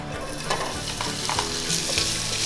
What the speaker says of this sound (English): You're always gonna wanna cook the meat first because it usually takes the longest